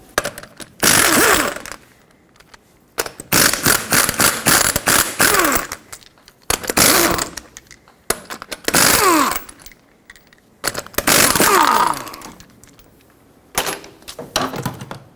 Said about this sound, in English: Now you can use a regular size socket to get all the 5 21mm lug nuts off.